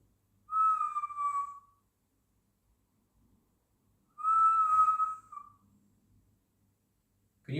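Someone whistles in a Victorian underground street, two sustained clear tones about three seconds apart, each held for over a second, echoing faintly in near silence.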